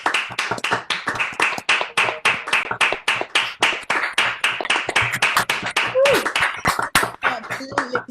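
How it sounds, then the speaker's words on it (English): A handful of participants clap together over a Zoom call, their scattered, slightly compressed claps overlapping in a steady patter for several seconds with no talking. "Let's give them a big round of applause to thank them for everything that they've done."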